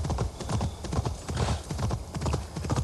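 Stolen horse's hooves in Assassin's Creed Valhalla, a quick steady clip-clop beat, close and clear, with no talking over it.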